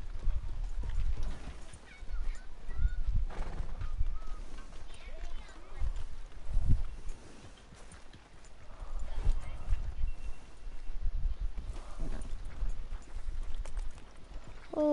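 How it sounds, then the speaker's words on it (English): Hooves of a wild horse in Red Dead Redemption 2 clip-clop steadily at close range, with a few snorts or whinnies, while a player talks over them throughout. "It's a wild horse."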